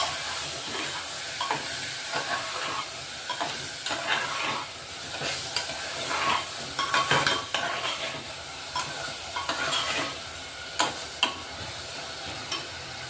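Chana dal and bottle gourd sautéed in a pan for a mixed vegetable dish, with steady frying sizzle under repeated scraping stirs and clinks of a spoon throughout, close and moderately loud, no talking.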